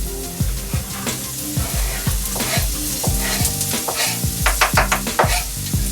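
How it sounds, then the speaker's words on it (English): Onions, carrots and cabbage sauté in oil in a frying pan for lumpia, with a steady sizzle and frequent clattering stirs over background music. "And I'm just going to saute that around a little bit."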